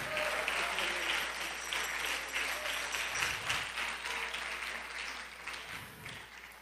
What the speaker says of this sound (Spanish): Dele aplauso de gloria al Señor.